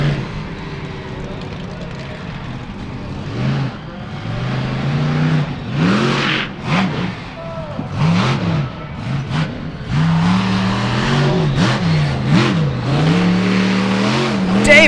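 Monster trucks Hotsy Raminator and XDP Diesel rev loudly during a freestyle run at the Indiana State Fairgrounds, with engine pitch surging up and down over crowd noise and an announcer's voice.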